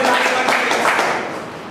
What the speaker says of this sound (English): But clap again.